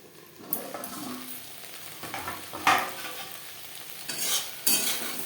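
Okra fries in a pan on a low gas flame for bhindi bhaja. A soft, steady sizzle is broken by several louder bursts of stirring and scraping close by, with no talking.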